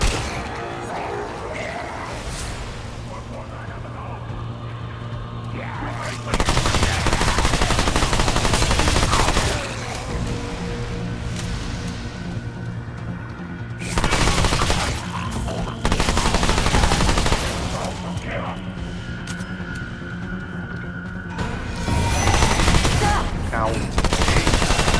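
Weapon fire in the video game Remnant II, with repeated loud bursts of rapid gunshots separated by quieter stretches of game ambience and someone talking.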